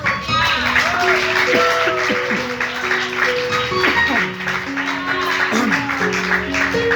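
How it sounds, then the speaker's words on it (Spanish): A church congregation claps steadily for the Lord throughout a Spanish-language worship service, the applause running loud and continuous under organ or keyboard chords and voices. "Dale los aplausos al Señor."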